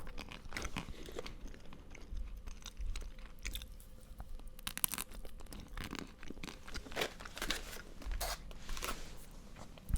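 Crunchy Jaffa Cakes are chewed close to the microphone in whispered ASMR style, giving a continuous run of sharp, crisp crunches and bites with no speech.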